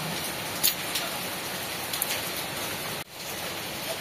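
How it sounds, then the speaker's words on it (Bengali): Heavy rain pours down steadily in a dense, even hiss of drops striking surfaces, with a few sharper patters and a brief dip in the downpour near the end, and no voices. "কি জোরে বৃষ্টি শুরু হয়েছে"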